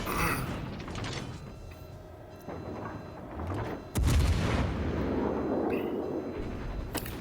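The rear gun turrets of the warship Trento rotate in World of Warships Legends with a steady mechanical grinding and creaking whir. One heavy booming thud lands midway, and the rumbling machinery continues afterward.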